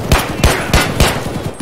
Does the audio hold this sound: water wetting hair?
no